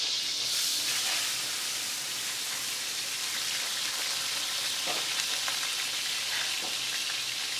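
Vegetables frying in olive oil for a marinara sauce, a constant soft sizzle with light crackles and occasional stir sounds, heard alone without speech.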